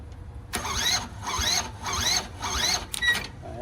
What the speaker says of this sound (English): we're gonna just turn the engine